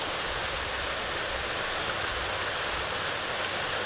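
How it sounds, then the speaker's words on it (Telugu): Boondi batter drips through a perforated ladle into hot oil, giving a steady, even sizzling hiss that holds at a constant level throughout with no voices. "ఇటువంటి జల్లిగంట తీసుకొని ఇట్లా పోసుకొని ఇట్లా రుద్దుతుంటే మంచిగా పడుతుంటుంది"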